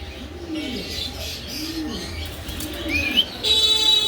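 Pigeons kept for sale, Pakistani breed among them, coo in a steady repeated rhythm of soft rising-falling calls close by, with a few brief chirps and a faint high tone near the end.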